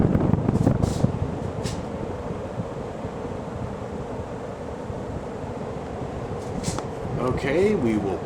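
A white and brass Casablanca Ventura ceiling fan runs at high speed, its steady broadband whoosh of moving air filling the whole stretch, with brief voices and a few knocks near the start and end.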